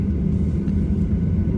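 Low, steady engine rumble inside a BBN Airlines Boeing 737-800 cabin during pushback, a constant deep drone with slight fluctuations and no talking.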